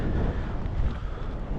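Gusty wind roars across the microphone on a lake during a walleye fishing outing, a continuous loud rumbling buffet with no pause.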